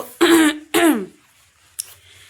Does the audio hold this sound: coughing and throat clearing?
yes